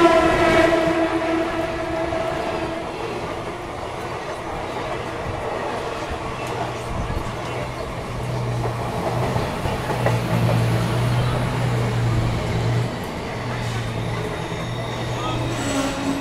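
Dakshin SF Express train pulling into Betul station, a steady rumble of rolling carriages and rail noise heard from on board, with a low horn-like tone sounding partway through.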